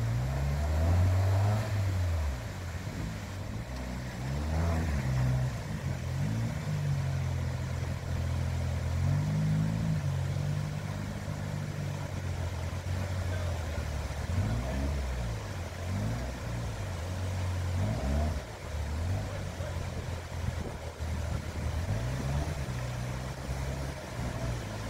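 Off-road race vehicle engines at a Rainforest Challenge Caucasus stage near Elbrus, a loud continuous low rumble with repeated rising and falling revs as trucks labour nearby, steady throughout without speech.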